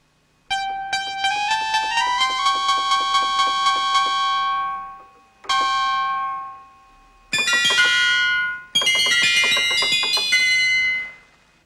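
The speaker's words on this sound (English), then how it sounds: "capturing the unique metallic element which is characteristic of a bell sound" A synthesized bell-like tone with an added dissonant harmonic rings out in several separate strikes. Each has a bright metallic attack and a sustained, slowly fading shimmer, and the later hits are denser and more clangorous.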